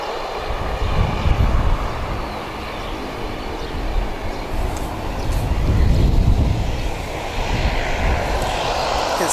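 A jet airliner heading to Nelson moves on the ground at Wellington Airport. A steady, heavy engine roar rises and falls in waves, with low rumbling surges, at close to moderate distance and with no talking.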